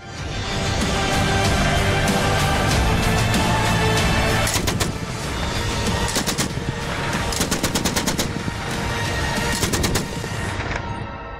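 A 12.7 mm heavy machine gun fires long, loud sustained bursts of rapid shots, with brief pauses between volleys, close by.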